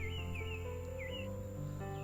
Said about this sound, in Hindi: चिड़ियों की चहचहाट इन पेड़ों के बीच में